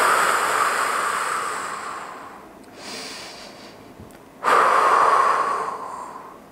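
Deep breathing during a Pilates wall exercise: a long airy exhale, then a quieter gap and a sharp new breath that swells and slowly fades, close and alone with no talk.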